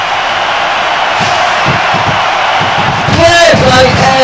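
A loud, continuous arena crowd roar fills a wrestling match in the SmackDown vs Raw 2006 video game, with commentators and a player talking over it.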